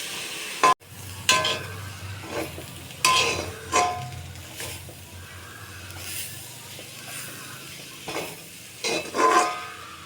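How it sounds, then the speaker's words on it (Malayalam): Cooked drumstick leaves being stirred in a pan, a soft low sizzle under repeated scraping and clinking of a spoon against the metal, with intermittent louder knocks. "നന്നായി ഒന്ന് ഇളക്കിയെടുക്കുക."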